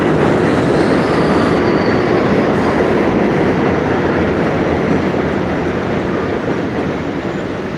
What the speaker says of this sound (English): There's a train over us, guys, so sorry for that.